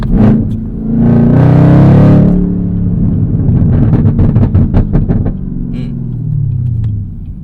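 Car engine in a rev-matched downshift: a sharp blip swells into a loud, close roar, then the rumbling engine runs with stuttering pulses before settling back down.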